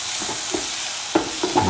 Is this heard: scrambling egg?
yes